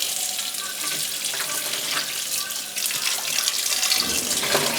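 Lamb meat washed under a running kitchen tap, a steady close hiss and splash of flowing water with shifting gurgles as the meat is moved, no talk.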